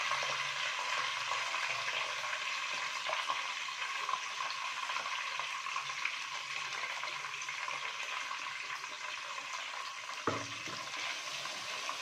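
Ground onion paste frying in a pan for a Telugu fish curry, Cheypala Pulusu, giving a steady, even hiss that runs unbroken, with one brief clink near the end and no talk.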